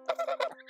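A goose gives a quick series of three or four nasal honks, close and moderately loud.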